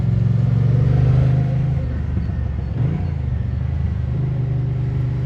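The big V-twin engine of a 2024 Moto Guzzi Stelvio touring motorcycle drones steadily while riding, a loud, close rumble with slight swells and dips in revs.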